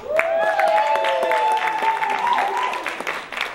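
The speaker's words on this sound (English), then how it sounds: "give yourselves a hand" A crowd at a yoga event in a Phoenix arts center applauds, a dense, sustained wash of clapping close by, while a whistle-like tone glides through and faint voices mix in.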